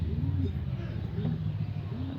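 Racing pigeons at a home loft: soft, repeated cooing in low rolling phrases, fairly close, over a constant background hum.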